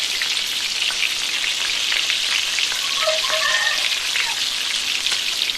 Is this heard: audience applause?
no